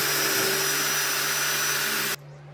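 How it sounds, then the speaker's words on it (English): A power drill bores small pilot holes into wood for CNC table legs, giving a loud, steady high whir held close up that cuts off abruptly near the end, with no talking. "then I'm drilling my holes and screwing them together"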